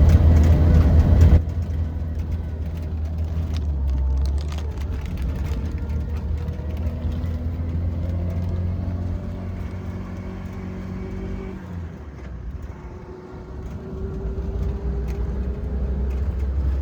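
An auto rickshaw carries passengers through Konkan toward Devrukh. Its engine drones with a steady low hum and rumble from inside the cabin for the whole ride. A brief louder burst sounds at the very start.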